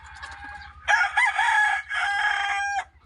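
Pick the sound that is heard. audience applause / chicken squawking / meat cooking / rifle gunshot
chicken squawking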